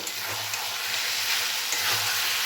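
Boiled kabuli chickpeas being sautéed in a frying spice paste produce a steady, dense sizzle close by, with faint stirring scrapes underneath and no pauses.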